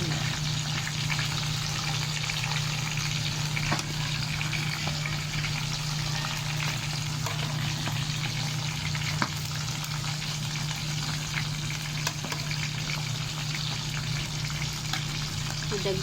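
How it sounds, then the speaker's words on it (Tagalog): Bangus (milkfish) frying in a pan, a steady, dense sizzle with crackles that runs unbroken for about sixteen seconds under a low, constant hum. "Nagprito dahil ko og isda na bangus"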